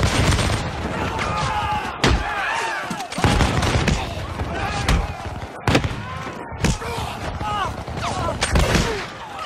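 Musket volleys in a LEGO American Revolution battle animation at Bunker Hill crack out in repeated sharp bursts amid shouted orders and battle noise.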